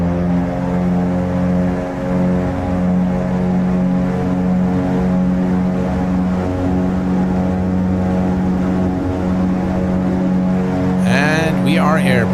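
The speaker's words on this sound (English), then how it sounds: "Listen to the engine sounds" Single-engine GA aircraft in the X-Plane 12 flight simulator during its takeoff roll, a steady loud droning engine tone with strong harmonics throughout, rising in pitch near the end as the plane climbs.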